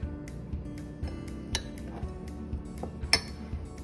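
A spoon stirs milk into crushed Oreo biscuits in a mug, producing soft, irregular clinks and scrapes against the ceramic, with one sharper chink near the end, all quiet and close.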